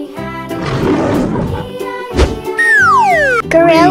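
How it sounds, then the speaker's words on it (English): A tiger roars loud and close in a children's animal painting cartoon, a rough growling burst followed by a thud and a high sliding whistle effect. "Tiger."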